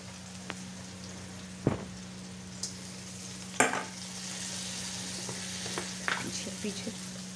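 Onion, green chili and peas frying in a pan: a low, steady sizzle under a constant hum, broken by a few sharp clacks and scrapes of stirring.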